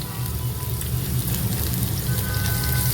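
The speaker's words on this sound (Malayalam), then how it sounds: "എണ്ണ ചൂടായതിലേക്ക് ഒരു മീഡിയം സൈസ് ഓനിയന് ചോപ്പ് ചെയ്തത്" A medium chopped onion sizzling in hot oil for a tandoori mushroom masala gravy, a steady loud close crackle and hiss like rain that continues without a break.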